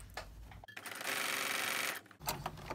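A sewing machine stitches a quilt-as-you-go ticker tape pillow cover made from fabric scraps, running in one steady close whir for about a second between brief stops and restarts.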